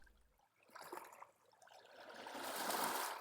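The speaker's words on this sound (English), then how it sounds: "the sound of the waves." Soft, faint water washing in gently rising and falling swells, a quiet surge that builds toward the end, heard alone without voices.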